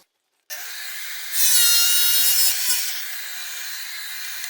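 A tile saw spins up and runs with a high whine, the pitch rising sharply as the blade bites into tile for about a second, then easing back.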